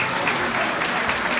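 An audience at a Portuguese popular music performance claps in a steady burst of applause, dense and fairly close, with no clear voices over it.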